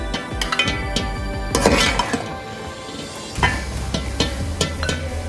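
Capsicum mutton curry is served out with metal utensils, producing a run of sharp clinks and clatters of spoon against pot and dish, close and uneven, with no talking.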